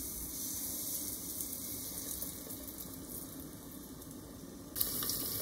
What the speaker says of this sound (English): Coat carrot and dive into oil.